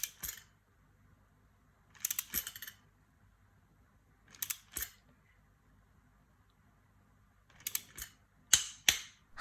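Preset torque wrench tightening a motorcycle bolt to 13 newton metres, giving several sharp, short metallic clicks in bursts separated by quiet pauses, close and fairly faint.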